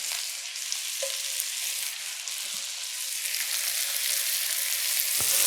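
Chopped shallots and garlic sizzle in a hot pan, a steady bright crackle heard up close. A couple of soft stirring knocks sound against the pan, and nobody speaks.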